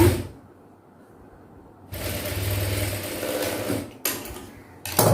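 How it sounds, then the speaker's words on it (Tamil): A sewing machine stitches piping onto cloth for girls' shorts, with a near, rapid motor whir in two long bursts separated by quiet pauses and short starts at the end. "பைப்பிங்காக நான் இந்த கிளாத்தை வந்து ஸ்டிச் பண்ணிட்டேன்"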